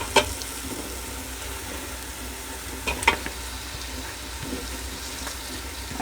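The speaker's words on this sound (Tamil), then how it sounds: "இப்போ வந்து இந்த ஊறின சிக்கனை இதோட போட்டுக்கலாம்." Marinated chicken drumsticks fry in a pan for biryani with a steady, low sizzle. A few sharp clinks and scrapes stand out near the start and middle, and no one speaks.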